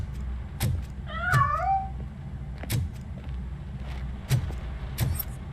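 A cat in the video game Robocop: Rogue City lets out one wavering meow early on, set among recurring sharp thumps over a low background rumble, moderately faint.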